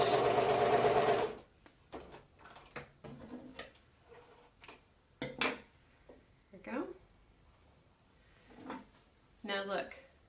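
A sewing machine runs a quick burst along quilt seams, then falls silent as quiet handling clicks, taps and fabric rustles follow, with a voice speaking briefly over them.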